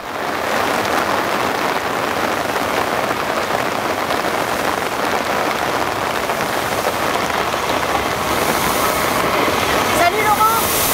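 Heavy rain pours down steadily at a steam locomotive festival, a dense, continuous hiss of drops drumming on surfaces throughout.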